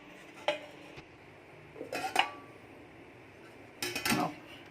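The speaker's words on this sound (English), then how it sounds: "cover this with a lid" A metal lid is set over a dish to trap coal smoke while cooking paneer lababdar. It makes three separate clattering clinks, each close and brief, spaced a couple of seconds apart.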